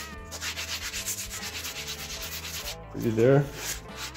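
Sandpaper rubs steadily across a rosewood archtop guitar bridge for a Gibson ES-125 restoration, a close, continuous rasping scrub with even strokes; a voice speaks briefly near the end over the sanding.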